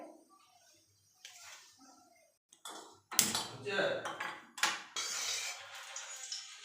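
Water is strained off curdled milk (chhena) in a kitchen. Quiet clinks come first, then loud, splashing bursts of pouring and draining that rise and fall over several seconds.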